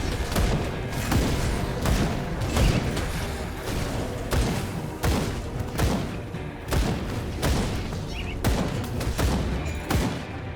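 Rapid bursts of gunfire from the video game Grim Dawn crack repeatedly in uneven volleys, loud and close, punctuated by heavier booms, with no speech.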